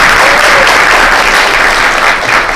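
A loud, continuous wash of audience applause rises at a Kathak dance debut recital as a performer is welcomed, many hands clapping together close and full without a break.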